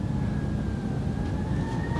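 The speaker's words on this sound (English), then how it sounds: "Do I hear a siren?" A distant emergency siren holds a steady, faint tone over low background rumble in a stage drama scene, with no voices.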